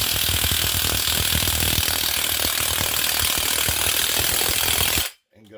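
A ratchet with a 17 mm socket tightening the hub on a Polaris Xplorer 4x4 ATV, a loud continuous rapid clicking of the pawl held close for about five seconds, then stopping abruptly.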